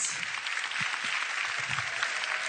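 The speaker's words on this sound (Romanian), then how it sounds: "Aplauze pentru Magolinus!" Audience applause for a magician at a comedic magic show, a continuous even wash of many hands clapping, moderately loud and steady from start to finish, with faint voices underneath.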